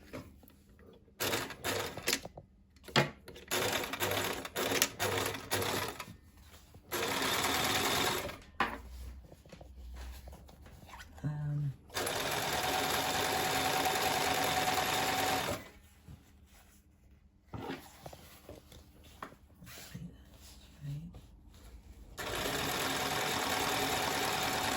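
Sewing machine stitching upholstery fabric for dining chair covers, running in several loud bursts of steady whirring stitches separated by short pauses, close by.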